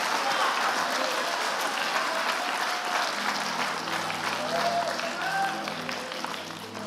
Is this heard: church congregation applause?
yes